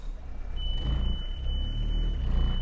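Steady high reversing beeps from a 2010 Renault Laguna, one continuous tone over a low idling engine rumble, close and clear with no voices.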